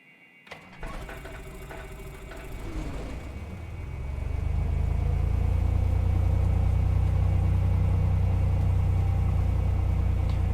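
A Cessna C182 piston engine cranking with a few clicks and whirs, then catching and settling into a loud, steady low idle rumble that fills the rest of the clip.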